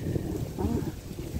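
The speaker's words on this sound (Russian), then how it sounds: "И ветер. Все время ветер. Напал на нашу крышу." Gusty late-autumn wind roars and buffets against a small house's roof, a low, steady rushing close to the microphone with no voices.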